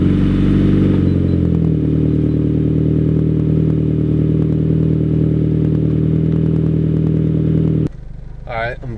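A Volkswagen GTI with a Megan Racing Drift Spec aftermarket exhaust idles with a deep, throaty exhaust rumble, loud and steady, before cutting off abruptly near the end as a voice begins.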